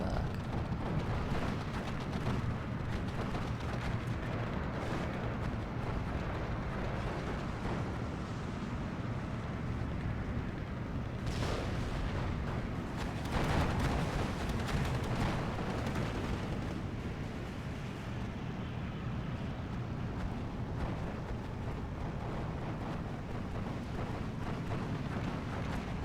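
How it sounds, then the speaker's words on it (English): Rumbling rocket-barrage artillery explosions roll through a Steel Division 2 battle, a continuous heavy thunder of impacts with a few louder blasts standing out. "So there's the rocket barrage there."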